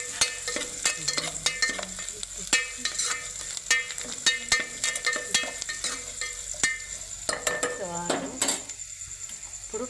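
A spoon stirs tomato and onion upma with salt in a pan, giving repeated scraping clinks and soft sizzling under faint kitchen background.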